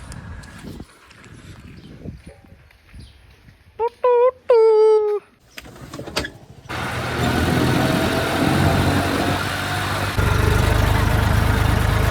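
A tractor engine idles and rumbles steadily in the open on a farm, joined by a louder engine drone that swells and holds; earlier, brief bird chirps and a few voices.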